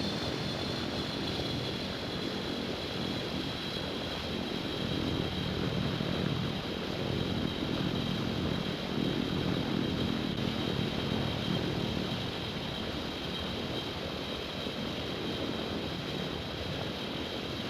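A Fat Albert aircraft on final approach to Albuquerque's runway 8 in the Infinite Flight simulator gives a steady, unbroken engine drone that stays level throughout, with no talk.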